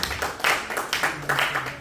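A church congregation claps and applauds in loud, rhythmic bursts that swell and fade in waves, with a voice faintly audible underneath.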